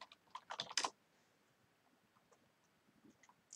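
Computer keyboard typing a Docker run command, a quick cluster of close, crisp keystrokes at the start followed by a few faint scattered taps in a quiet room.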